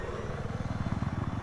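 An enemy helicopter in the video game Battlefield 4 thumps with steady, rapid rotor beats, a low pulsing drone held at moderate loudness over a wash of game noise, with no talk over it.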